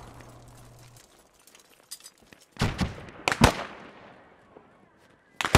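Mortar rounds land in the Squad video game during an assault on a US forward base, several heavy booming impacts spaced out over the clip, with sharp cracks and rumbling decay.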